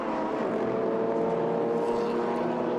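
BMW race car number 64 in a hot-weather race, its engine droning steadily at moderate distance as it enters the pit lane, a continuous even hum without clear talk over it.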